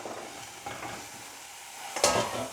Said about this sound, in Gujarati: ચલો બધા બીન્સ નખાઈ ગયા અને મસ્ત રીતે મિક્સ કરી દઈએ